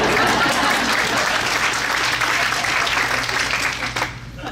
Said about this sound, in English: the applause can be now, by the way.